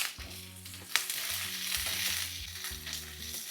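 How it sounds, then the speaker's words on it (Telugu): Sliced carrot and capsicum frying in a pan for fried rice, a steady sizzle with a sharp clink of a utensil near the start and light stirring throughout, close and alone. "ఈ మూడు లైట్గా కచ్చపచ్చగా వేగాలి"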